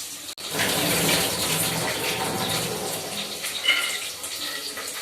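Chopped onions hit a hot pan already holding partly cooked cauliflower and fry with a loud, steady broadband sizzle. The hiss rises sharply after a brief gap, then holds strong with no talk.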